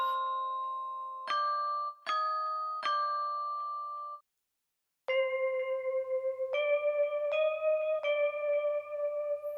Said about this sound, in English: we got some bells that are like glockenspiels, live recorded sounds, of course.